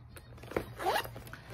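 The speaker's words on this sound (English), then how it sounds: "This is the back. It has a zipper." A zipper on a leather handbag is pulled open in one quick, close rasping stroke, preceded by a soft tap and light handling sounds, fairly quiet.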